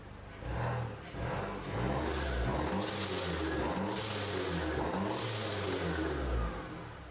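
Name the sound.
Mercedes C250 engine revving after rebuild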